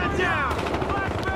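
Gunfire from a sniper rifle in the shooter game Battlefield Hardline, dense and close, with a brief loud burst in the middle under a steady, busy backdrop of game noise and some voice.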